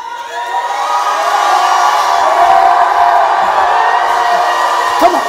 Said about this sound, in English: stand up and scream.